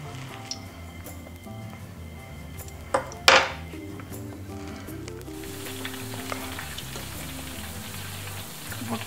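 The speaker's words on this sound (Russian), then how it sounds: "Кусочки уже обжариваются." Battered chicken fillet pieces fry in a pan with a constant soft sizzle and crackle, close by. Utensils clatter against the pan now and then, with one sharp scraping burst.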